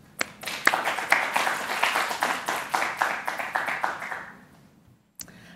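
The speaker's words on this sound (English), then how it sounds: "So everybody please give a big round of applause for Frances." Sustained applause from an audience, dense clapping for about four seconds that fades out, followed by a brief pause and a single sharp sound.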